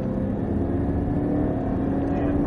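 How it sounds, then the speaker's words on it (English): Car engine pulling hard out of a corner on a track as the throttle is squeezed, a steady close engine drone that holds loud for the whole moment. "squeezing on the throttle,"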